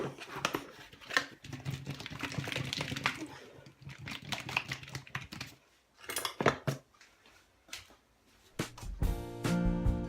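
A lidded pan of corned beef hash being shaken, a clattering rattle of the lid and pan in uneven bursts, close and moderately loud, with quieter handling noises between.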